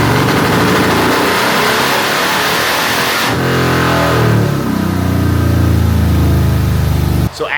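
A 2017 Harley-Davidson Electra Glide tuned with Power Vision runs loud and close, its engine rising in a rev before settling into a steady throbbing idle, then cutting off abruptly near the end.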